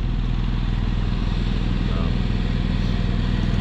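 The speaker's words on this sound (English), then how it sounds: "And I got the generator running until the sun takes over." Portable generator running outdoors at sunrise, a steady, loud low-pitched engine chug with a fast, even pulsing rumble throughout, close by and unbroken.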